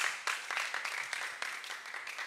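Faint scattered applause from a small group comes as uneven bursts of clapping that carry on throughout without pause.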